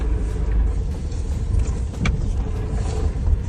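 A car drives along a road toward the Kupiansk direction, giving a steady low rumble of engine and road noise from inside the cabin with no talking.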